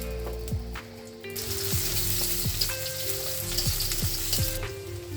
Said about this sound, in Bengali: গরম হয়ে গেছে, এখন আগে থেকে কেটে রাখা পেঁয়াজ দিয়ে দিব।